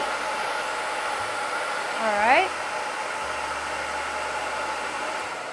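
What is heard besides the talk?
blow dryer drying hair during a blowout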